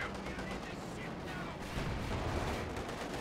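Tank cannon and gunfire from a T-34 and Panzer IV battling in Company of Heroes 2 on the Essen Steelworks map, a dense, continuous rumble of booming shots and battle noise with no clear gaps.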